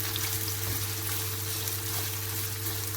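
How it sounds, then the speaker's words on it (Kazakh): Fresh garden eggplant fries in a pan, giving a constant close sizzle over a low steady hum, with no one speaking. "Қатты қуырмасақ та сәл қызарыңқы болсын"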